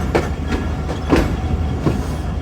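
Awam Express passenger train leaving the main line and rolling onto station platform 1 on the Rawalpindi to Lahore route. Steady close rumble with rhythmic clickety-clack of wheels over rail joints, no voices.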